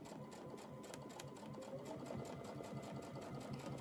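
A sewing machine stitching a log cabin quilt practice panel during ruler work, a steady close mechanical whir with rapid rhythmic needle clatter running unbroken throughout.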